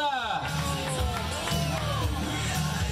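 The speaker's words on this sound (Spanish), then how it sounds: "Un aplauso para ella" A crowd cheers and whoops at a beauty pageant during a bike week event, a dense, continuous roar with shouted voices layered over a music-like backdrop.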